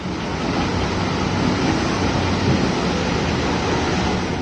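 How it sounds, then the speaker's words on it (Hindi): The Ganges River rushes down from the mountains toward the plains in a loud, continuous broadband roar of water that stays steady and unbroken throughout. "गंगा का शोर अब दूर से ही सुनाई देता है"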